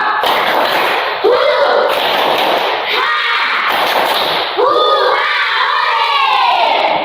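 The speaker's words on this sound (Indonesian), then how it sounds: "mari kita ice breaking dengan tepuk rimba terlebih dahulu" A group of children in a classroom performs the tepuk rimba clapping icebreaker, with loud rhythmic bursts of claps and chanted shouts in several sections, each separated by short pauses.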